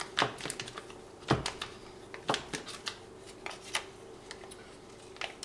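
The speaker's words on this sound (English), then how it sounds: "to dice up the Spam" A knife dicing Spam on a cutting board, irregular sharp taps and chops, some close and loud, others lighter, spaced unevenly over a quiet background.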